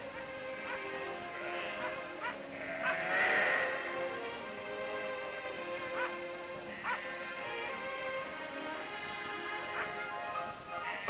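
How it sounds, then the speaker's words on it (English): Sheep bleat repeatedly at a distance on hills beside the sea on the Cape Barren Islands, over a steady background of surf and wind, with scattered calls rising and fading. "Here, the inhabitants attend to their sheep on the hills alongside the surf."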